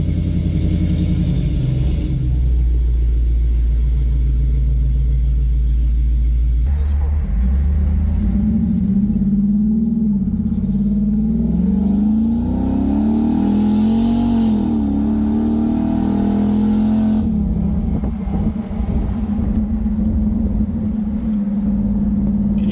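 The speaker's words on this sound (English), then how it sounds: "So now we get to go for a test drive, test it out." A Jeep Wrangler with an 8HP transmission swap, driven in sport mode, rumbles steadily as its engine revs and the pitch rises and falls through gear changes, under ongoing talk inside the cabin.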